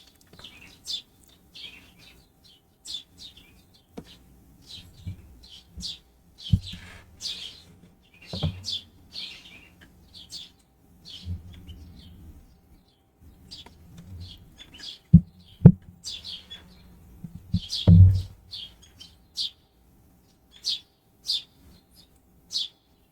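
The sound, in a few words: birds singing in the background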